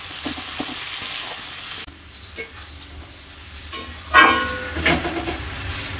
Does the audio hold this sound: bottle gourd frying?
yes